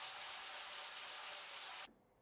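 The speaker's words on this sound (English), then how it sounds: "Using 100 grit sandpaper, I am sanding the deflectors so they will fit into the panel." Steady, close sanding of plastic deflector tubes with 100-grit sandpaper, a continuous bright rasping hiss that stops abruptly near the end.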